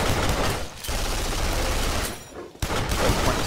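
Dense rapid gunfire from Duke Nukem Forever roars almost without pause, a continuous loud automatic barrage broken by two brief gaps, with no voices.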